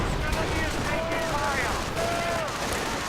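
Gunfire from a WWII real-time strategy game as German grenadiers and American infantry trade shots, dense crackling bursts overlapping steadily with layered game sound throughout.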